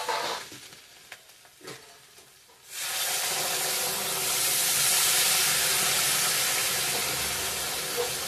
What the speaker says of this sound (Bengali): জল দিয়ে দেবো এখন।